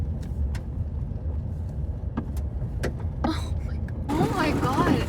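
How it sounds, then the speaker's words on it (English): Dirt and gravel spray against the underside of a high-clearance four-wheel-drive truck crawling over rough Utah desert terrain in winter, a rushing patter over the low engine drone, with a sharper burst of spray near the end. "It's the dirt flying up under my truck."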